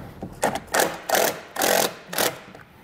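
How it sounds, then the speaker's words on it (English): A self-tapping screw driven into bare metal inside a trailer taillight pocket, heard as five close, rhythmic bursts of power-driver whirring and grinding separated by short pauses, with no talk. "we're gonna ground to the inside of the taillight pocket here to bare metal using the included self-tapping screw in your kit"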